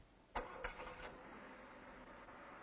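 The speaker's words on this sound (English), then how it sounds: "Quiet, isn't it? And smooth, smooth as silk. It's a brand new engine, an exclusive with Tempest." A Pontiac Tempest engine cranks and catches with a couple of sharp bursts, then settles into a quiet, smooth, steady idle.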